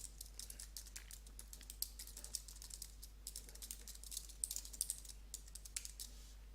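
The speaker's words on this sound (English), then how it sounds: "you just can type in your new options here" Quick, irregular keystrokes tap on a computer keyboard at close range, a soft, steady clatter of light clicks over a low electrical hum.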